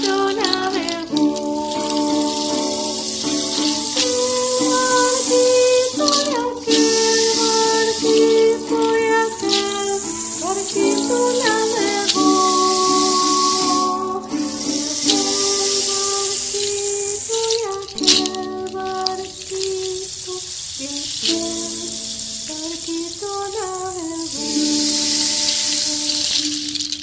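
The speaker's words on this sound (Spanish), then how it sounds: "¿Pudieron descubrir cómo suenan los frasquitos con agua?" Small glass jars holding water are struck one after another, giving clear ringing pitched notes in a slow melodic run, each tone sustaining briefly before the next, with no talking.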